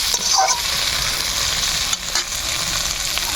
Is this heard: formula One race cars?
no